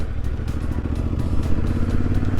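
Small Honda CRF 300 and 250 dirt bikes ride nearby, a loud continuous engine rumble with pulsing, clattery texture, no voices heard.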